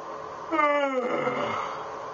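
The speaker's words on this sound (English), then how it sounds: "That's just my yawn." A person yawns once, a near, rising then falling breathy voiced groan lasting about a second, during a fry and false chord screaming lesson.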